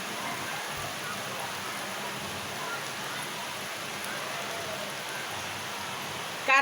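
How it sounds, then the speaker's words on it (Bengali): Heavy rain falls in a constant, dense broadband wash of hiss that stays even throughout, with no separate drops standing out and a brief bump right at the end. "দেখো কি জোরে বৃষ্টি নামছে।"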